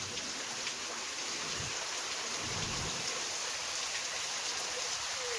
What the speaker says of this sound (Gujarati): વરસાદ જો કે ઘણો પડે છે, વાત ન થાય.